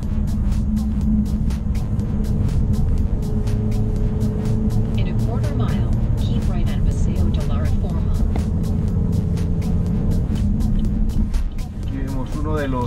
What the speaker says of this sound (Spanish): hay tanto tráfico